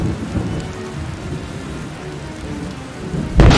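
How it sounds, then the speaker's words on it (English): A thunderstorm in a forest, with steady heavy rain hissing throughout and a loud thunder crack bursting in right at the end. "When the children were in the forest, there was a storm."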